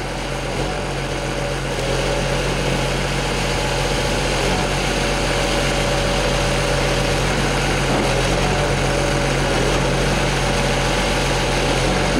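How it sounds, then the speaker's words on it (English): A 2027 648GIII tractor engine running steadily while the machine is raised, a loud continuous droning hum that holds an even level throughout, with no talk. "We're going to raise the machine up and down off the ground so you'll be able to see any slack in this area."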